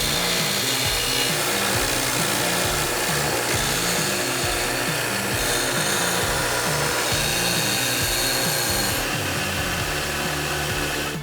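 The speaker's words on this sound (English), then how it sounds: "the blade needs to have constant contact with the rotating grinder so that it gets nice and sharp" A woodturning tool blade held against a rotating bench grinder, a continuous loud whirring grind with a steady pulsing drone throughout, no speech.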